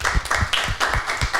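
A small group claps through a French talk-show studio discussion, with sharp irregular hand claps close by and no voices over them.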